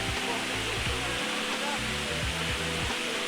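Waterfall at Albion and Sherman Falls, a steady, dense rushing roar that fills the whole clip without pause, with faint low voices murmuring beneath it.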